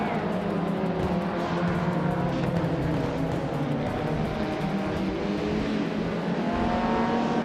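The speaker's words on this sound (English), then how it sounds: "Team Tenatia is cruising in a 1994 Volvo 850 Estate and sitting in fourth place" A 1994 Volvo 850 Estate cruising in a car race, steady engine drone with a constant hum and mild revving, held at an even, moderately loud level throughout.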